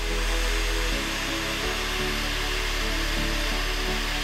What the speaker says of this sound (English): And placing it under the hairdryer.